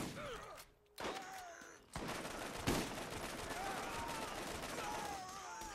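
Hip-fired weapon gunfire in the Borderlands video game: a dense, continuous roar of shots and impacts that fills most of the stretch after a short lull near the start, loud and busy with game effects layered over it.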